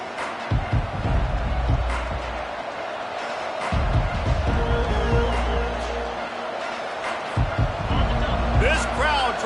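A stadium crowd roars and swells through the opening kickoff of a college football game involving the Ducks, a sustained wash of cheering under a commentator's voice.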